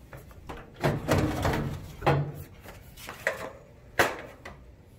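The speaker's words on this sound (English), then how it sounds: "Now we're ready to remove our swamp cooler door." The door panel of a Mastercool swamp cooler is removed, giving a handful of close hollow knocks and scraping thuds from the panel, with no talking.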